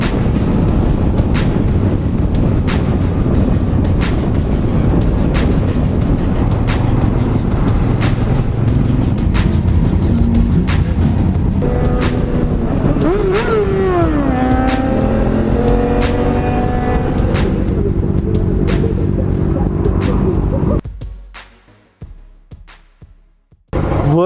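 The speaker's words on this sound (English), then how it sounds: "Now I'm on the 1290 KTM." A KTM 1290 motorcycle being ridden, its engine droning steadily and loudly under heavy wind rush, with a rising-then-falling pitch sweep midway, before the sound drops away abruptly near the end.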